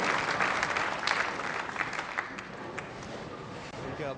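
The home crowd at Barnsley Metrodome applauds during a Europe v USA ten-pin bowling team event, with dense, steady clapping throughout and a voice talking faintly underneath.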